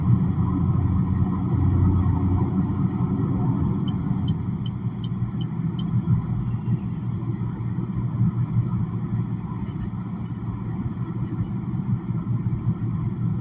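A car drives in a noisy motorway lane, filling the cabin with a loud, steady low road rumble and tyre roar that stays constant throughout.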